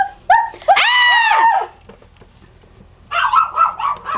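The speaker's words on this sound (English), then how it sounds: "Crazy dog's trying to get in." A dog named Trooper barks and whimpers at a door while trying to get in: a sharp yelp, a long rising whine, quiet, then another burst of whimpering yelps, close and loud.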